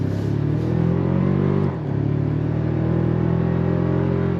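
A 2025 Toyota Tacoma TRD Pro truck pulls away on throttle, its engine a loud, steady drone that dips briefly midway before building again, with no talk over it.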